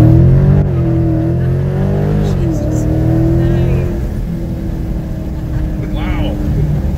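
A 2019 Dodge Challenger 1320 drag car's engine revving hard and pulling away as it launches off the line, a loud droning roar with changing pitch while people in the car react with short exclamations.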